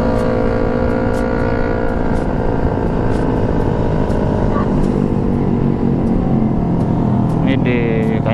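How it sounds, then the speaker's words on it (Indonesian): Motorcycle engine droning steadily close by throughout a ride, a continuous loud rumble with people talking over it. "Biar dapat backsoundnya itu suara motor guys,"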